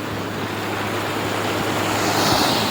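Sea surf breaking against the shore, a steady broadband wash of water that swells slightly louder toward the end, with no voices present.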